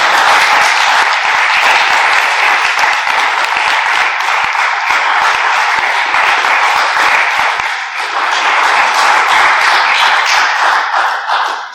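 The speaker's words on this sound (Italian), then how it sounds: "credo che l'applauso abbia dimostrato l'entusiasmo per la tua lezione" An audience applauds at the close of an art history lecture on Venetian and Antwerp art markets, with dense, sustained clapping that fills the room steadily for about twelve seconds without fading.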